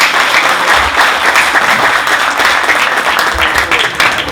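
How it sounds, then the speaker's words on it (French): Applause from a university audience at a Sciences Po Rabat event, a dense and loud continuous clapping that holds steady throughout. "Les applaudissements sont les meilleurs des remerciements"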